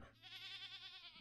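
A lamb in a video game gives one sustained, wavering bleat, fairly quiet and alone, with a faint background hum.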